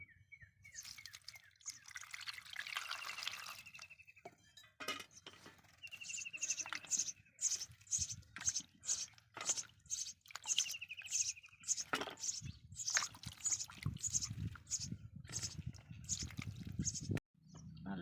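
Raw mangoes being rinsed in water, with splashing, sloshing and steady dripping patter close by. Handling noises run throughout, and a voice talks softly at times.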